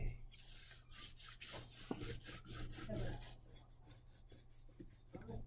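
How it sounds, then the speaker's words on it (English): A crayon rubbed back and forth over paper laid on a leaf, giving a soft rhythmic scratchy rasp of repeated strokes, quiet and close, with no talking. "I'm going to take our crayon, and I'm just going to go back and forth"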